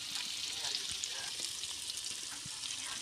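Ingredients such as fennel seeds and onions sauté in oil for a village-style chicken or beef curry, giving a steady, close sizzle with soft stirring scrapes throughout.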